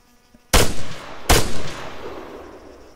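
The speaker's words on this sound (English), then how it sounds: "now we're gonna shoot the poor Bob" Two sharp gunshots in the military video game ARMA 3, loud and close, each cracking out with a short echoing tail, the second following under a second after the first, with no talking.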